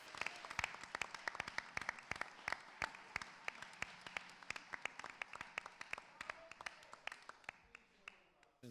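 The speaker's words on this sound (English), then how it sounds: "Let's just give a big round of applause for our candidates, for the person you like the best, for your moderator, for the city." Sparse applause from a small audience at a city council candidate forum: distinct individual claps ring out in an uneven patter, fairly faint, with no speech.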